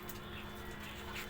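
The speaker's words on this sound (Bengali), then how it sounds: "কবুতর দেখা যাচ্ছে এখানে অনেক" Pigeons coo softly at a tower, a faint low murmuring call over quiet outdoor background.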